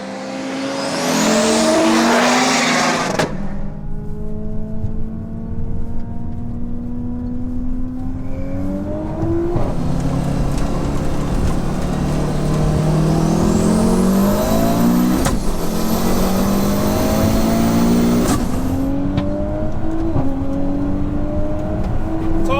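A 650HP Audi S2 and a 600HP Audi S5 drag race with loud engines revving hard, rising through gear changes in repeated long pulls, sustained and close throughout.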